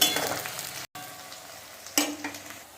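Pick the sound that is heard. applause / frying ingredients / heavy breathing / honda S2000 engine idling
frying ingredients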